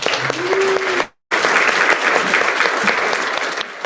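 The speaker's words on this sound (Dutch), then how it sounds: "Dames en heren, applaus voor Joyce" An audience at a Dutch-language event applauds for an introduced speaker, a dense burst of clapping that fills the room, cuts out briefly and then resumes steadily.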